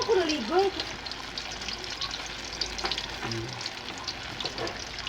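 Sweet potato (camote) slices frying in hot oil, a steady close sizzle running throughout, with a brief voice-like sound near the start and occasional stirring clinks and scraping.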